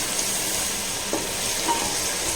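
Onion and tomato sizzle and fry steadily in a pan for a restaurant-style mushroom gravy, a continuous close hiss with a couple of faint stirring scrapes and no talk.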